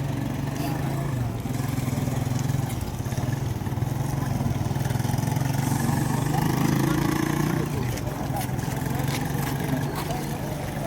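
Engines of many motorcycles and buses idle and rumble at Dangay Roxas port at night, a steady dense drone filling the scene with faint voices underneath.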